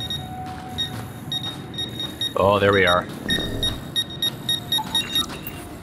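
Proximity mines in the video game Mass Effect Andromeda give short repeated electronic beeps. A sweeping warbling tone and a man's brief remark come partway through.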